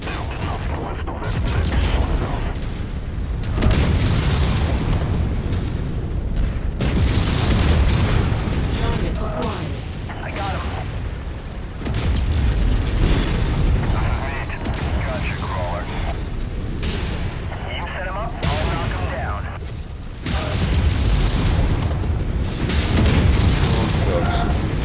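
SRM-6 missiles chain-fire from a mech in a MechWarrior video game, giving repeated booming launches and blasts in loud rolling clusters over constant engine and battle noise.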